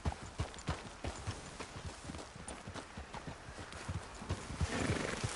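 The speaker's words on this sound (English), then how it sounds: "Hey, that's a nice looking horse you have there." A horse in the Red Dead Redemption 2 video game clops along at a steady walking rhythm, hooves close and distinct, then gives a whinny near the end, with no voices heard.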